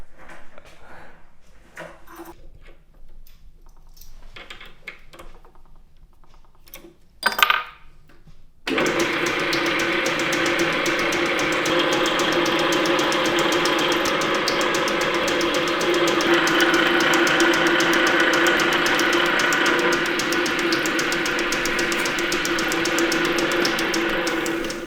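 A lathe runs steadily in an English umbrella workshop, a broad continuous whirring hum starting abruptly after a few quiet seconds of faint clatter and then holding at an even, fairly loud level to the end.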